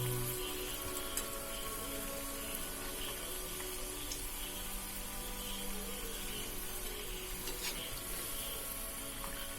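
Chickpea vadas deep-frying in hot oil, a steady, even sizzle and crackle that holds at the same level throughout, close by and alone with no voices.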